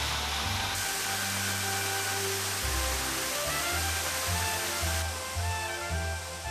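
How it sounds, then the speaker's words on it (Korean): An emerald waterfall in Thailand roars steadily in a dense broadband rush, with some low rumbling shifts beneath it and no speech. "내내 폭포 소리가 밀려오고 흘러갔습니다."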